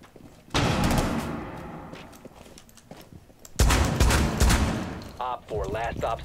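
Rainbow Six Siege gunfire comes in two sustained, loud bursts of rapid shots, separated by a quieter gap, with a voice speaking briefly near the end.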